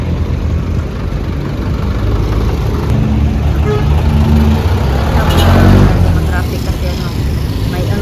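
Steady road traffic on a Philippine street, car engines idling and passing at close to moderate distance, swelling briefly midway, under low background noise.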